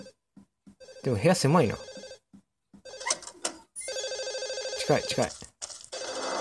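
A telephone rings repeatedly inside a cramped room in Silent Hill 4: The Room, loud bright bell bursts recurring between pauses, with people talking over parts of it.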